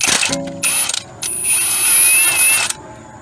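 Ratchet wrench loosening 12 mm bolts on the power steering pump of a Toyota Sienna: close, loud bursts of rapid clicking pawl in several short runs, alone without talk.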